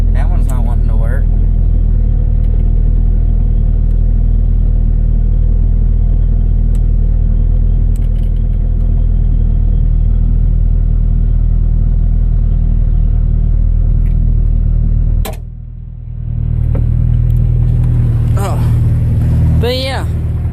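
Ford Ranger pickup truck engine running with a heavy low rumble and steady drone, briefly dropping out near the end before picking back up, with a person talking near the start and close to the end.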